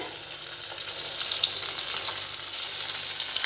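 Shrimp and onion lentil fritters sizzle steadily as they fry in hot oil, a close, continuous crackle with light stirring and no voices.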